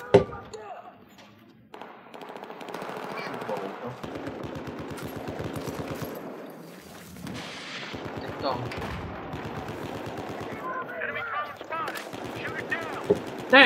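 Rapid automatic gunfire and sharp single shots crack through a Battlefield 4 Conquest match on Zavod 311, with bursts and thuds layered across the whole stretch under players talking.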